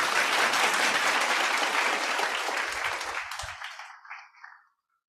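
Audience at a memorial tribute applauding a singer, dense clapping from a crowd that thins out and dies away after about four seconds, leaving a few last claps before silence.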